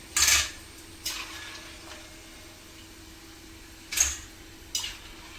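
Fried banana chips from an Onam kitchen are tipped into a vessel, giving a few brief, close dry clatters and rattles separated by quiet gaps.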